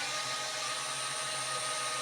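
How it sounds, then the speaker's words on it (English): A power drill with a 5 mm bit bores into upholstery padding, a steady, loud whirring drone that holds without a break from start to finish. "I just take my drill with 5 millimeter bit on it, drill on it,"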